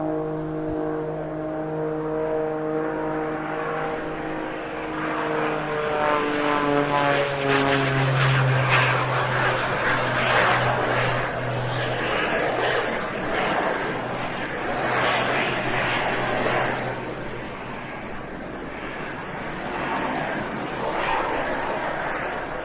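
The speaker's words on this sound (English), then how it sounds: "the noise of the 2 jet engines overpowering that of the 300 horsepower Lycoming piston engine" An aircraft roars past at an air display, propeller drone from a 300-horsepower Lycoming piston engine with a deeper tone sliding in pitch as two jet engines swell loud and rough, then slowly ease off.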